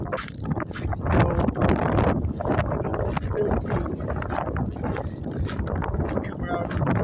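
Strong, cold storm wind on a snowy north slope buffeting the microphone, with loud continuous gusty rumble and roar throughout.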